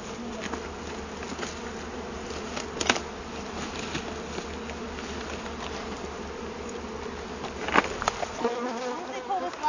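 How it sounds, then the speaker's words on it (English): A dense, steady buzzing of a swarm of bees gathered around a log fills the clip, close and continuous, with a few louder passes near the microphone. "Whoa, there are a lot of bees there."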